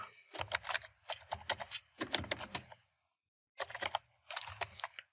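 Quick bursts of clicking keystrokes on a computer keyboard as a project name is typed, close and fairly quiet, in several short runs separated by brief pauses.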